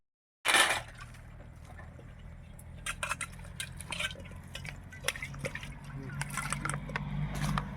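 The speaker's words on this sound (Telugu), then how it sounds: "ఈ గంజులు శుభ్రం చేస్తున్నాడు" Cooking pots are washed with water beside a Krishna River reservoir, giving faint, close splashes, drips and trickles with occasional light clinks over a low background hum.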